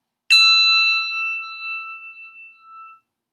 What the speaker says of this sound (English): you will be able to play those two bells at the same time